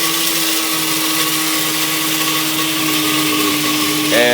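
A coffee grinder whirs loudly and continuously as it grinds Colombian roast beans, a steady motor drone that rises in pitch near the end as the beans break down.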